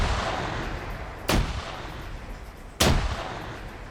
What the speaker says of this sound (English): Grenades everywhere.